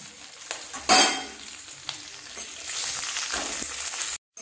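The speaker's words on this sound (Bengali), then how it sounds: "দেখেন সব মশলাগুলো আমাদের ভাজা হয়ে গিয়েছে" Spices sizzle and crackle in hot oil, with a sudden louder hiss as green chillies and asafoetida hit the pan, then a steady frying sputter.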